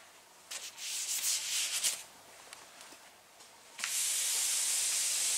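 Sanding block working 180-grit paper over filler on a fiberglass fender flare, a close, dry rasping hiss in quick uneven strokes, then a steady loud rushing hiss that may be compressed air blowing the surface off.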